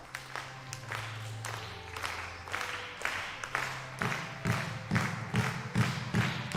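The crowd at the mixed 10m air rifle prone SH1 final of the 2019 World Shooting Para Sport Championship claps in rhythmic bursts that grow steadily louder and quicker, with a few low thuds in an indoor hall.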